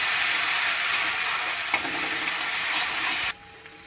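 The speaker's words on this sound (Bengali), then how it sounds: "একসঙ্গে সব মশলা কিন্তু খুব ভালোভাবে এবার আমি কষিয়ে নেব।" A mustard and poppy seed paste for a pabda fish curry is fried in a pan, giving a loud, steady sizzle with a faint scrape of stirring, then dropping abruptly to a quieter hiss.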